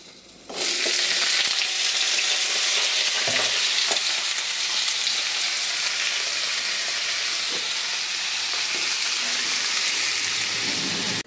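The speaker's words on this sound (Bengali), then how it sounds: "দেখো আমার পনির ভাজা হয়ে গেছে, এবার আলু আর ভাজবো।" Potatoes dropped into hot oil in a kadai after paneer was fried, a loud steady sizzle and crackle that starts suddenly and continues, with occasional stirring knocks.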